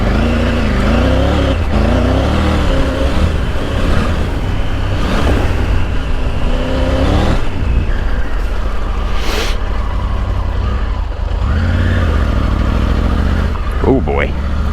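A middleweight dirt bike engine snarls and revs continuously while being ridden off-road, loud and close, with wind noise throughout and a rider's voice occasionally under the roar.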